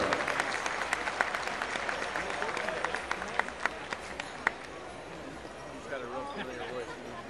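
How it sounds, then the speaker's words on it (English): A crowd applauds the Morongo Honor Guard color guard at a 2007 powwow, a faint, wide spread of clapping with scattered sharper claps heard from a distance, with voices underneath. "Let's give them a round of applause, ladies and gentlemen."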